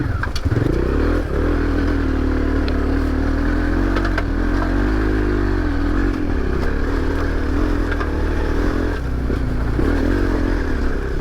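A heavy adventure motorcycle of more than 200 kg, ridden at steady speed, gives a loud, continuous engine drone with a rumbling low note, wind noise and slight pitch changes as the throttle shifts.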